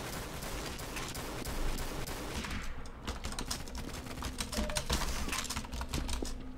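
Rapid video-game gunfire from a shooter firing out of a window crackles in dense bursts through a busy, cluttered mix of game sounds, with no talk over it.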